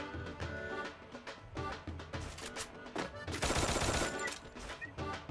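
Rapid bursts of gunfire in the battle-royale video game Free Fire, dense repeated shots building into a sustained loud volley, with faint voices underneath.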